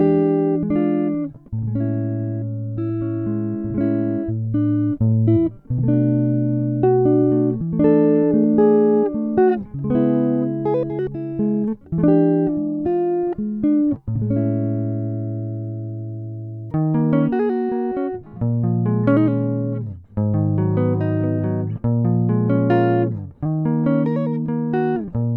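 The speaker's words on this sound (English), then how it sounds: "So we're going to start with a clean tone in the neck position." Fender Vintera 70s Telecaster played clean on the neck pickup with the volume full and the tone rolled back slightly, warm sustained chords and single notes in a steady phrase, close and clear with no talk.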